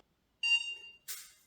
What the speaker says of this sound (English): And there's our beep.